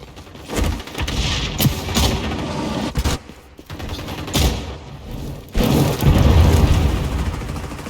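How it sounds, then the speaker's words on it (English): Repeated explosive bursts and heavy booms from a video game firefight after a flashbang grenade is thrown, loud with gunfire-like crackle, several sharp blasts spread across the stretch. "Using flashbang!"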